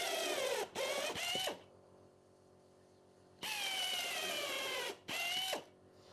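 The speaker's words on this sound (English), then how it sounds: "Put a shorter screw in there." A screw is driven into wood with a drill in two separate runs, each a loud, near, whirring buzz broken by brief pauses and ending in a falling whine, with a quiet gap between the runs.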